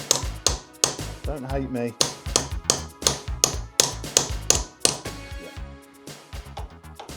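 A motorcycle exhaust bracket on a Suzuki GSX-S1000 GX being struck with a tool, about a dozen sharp close metallic taps in an irregular rhythm, with someone speaking briefly between blows.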